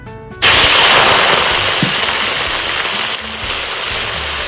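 Marinated beef tapa dropped into hot oil, a sudden loud burst of crackling and sizzling that stays dense and close throughout, easing slightly as frying settles.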